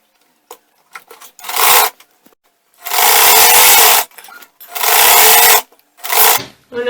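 A sewing machine stitches a bustier blouse in three loud, close bursts of a second or so each, separated by pauses filled with soft fabric shuffling and small clicks.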